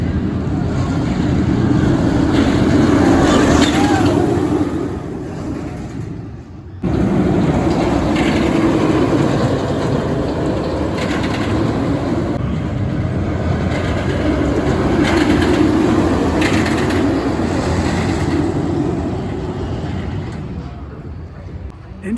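An RMC roller coaster, Arieforce One at Fun Spot Atlanta, roars and rumbles along its track with a steady clattering din and wind rush, briefly dipping before surging again, close and loud throughout.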